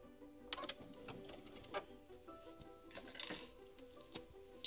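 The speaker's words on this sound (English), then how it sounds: "I'm just going to drop my foot, bring my bobbin thread up to the top" Home sewing machine stitching quilt appliqué on a Dresden plate flower, faint and close, with a quick rattling run of stitches and light clicks and taps between bursts.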